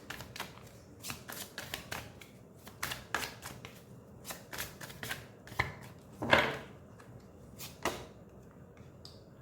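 Tarot cards are shuffled and drawn in quick, crisp riffling flutters and snaps, close and fairly quiet, with no talk over them.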